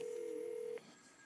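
A Merlin II phone system calls a Model 500 phone, producing a single steady electronic tone that lasts under a second and then cuts off to faint hiss.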